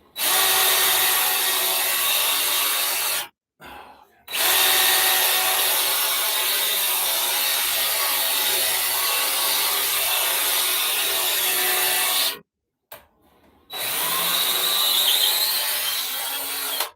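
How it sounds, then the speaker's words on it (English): Angle drill boring into wood on a boat's engine bearers, a steady close whirring grind in three long bursts separated by brief pauses, with no speech. "I'm really liking this drill. It's because it really, an angle drill, it makes a big difference"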